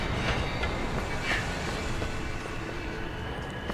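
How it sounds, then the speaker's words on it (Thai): A tram rolls along rails in the video game SIREN: Blood Curse, a steady, dense rumble with faint rail clatter and a brief metallic squeal, holding at an even level throughout. "เป้าหมายคือน็อก คิวิโตะด้วย รถรางนะครับ"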